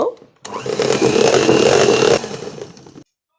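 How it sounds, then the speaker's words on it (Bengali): Electric beater whirring as oil is mixed into beaten eggs for a vanilla cake batter, a steady buzzing motor run of about two seconds that then winds down. "আমি একটু সময় তেলটাকে বিট করে মিশিয়ে নেব।"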